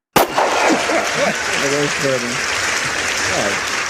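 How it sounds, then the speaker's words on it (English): Loud, close clapping begins with a sharp onset and keeps up as a steady broadband rattle, while someone talks over it throughout. "The clapping is very, very loud"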